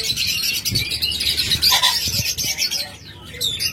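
Pet birds in a cage, a pair of budgerigars, doves or lovebirds, chirp and twitter in quick bright bursts, with a few low coos underneath, close and fairly loud.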